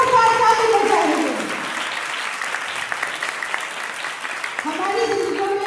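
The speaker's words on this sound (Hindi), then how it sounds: "उस बेटे के लिए जोरदार ताली बजाइए" Church congregation giving loud applause for the son during an evangelist's sermon on prayer, dense clapping that fades slightly mid-way, with a speaking voice heard at the start and end.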